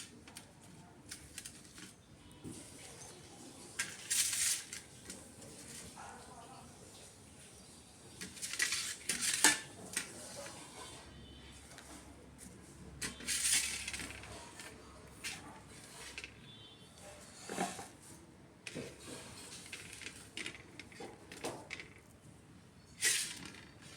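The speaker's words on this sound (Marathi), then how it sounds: "बघा आता ताटलीतलं मी सगळं मिक्सरच्या भांड्यामध्ये" Ingredients for a homemade Ayurvedic hair oil scraped from a plate into a mixer jar, heard as scattered clinks and soft scraping knocks on metal and steel, moderately close, with brief bursts and quiet gaps and no talking.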